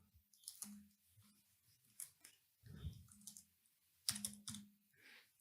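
Keys tapped on a computer keyboard while setting up data transfer from a Raspberry Pi to AWS IoT Core, irregular clusters of soft clicks with pauses between bursts, close and fairly quiet.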